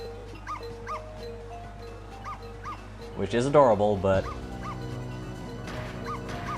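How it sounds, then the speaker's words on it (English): Missile, a small cartoon dog in the video game Ghost Trick, yips and barks in quick repeated bursts, louder in the middle, over soft game music, while someone talks. "So now he's barking even louder."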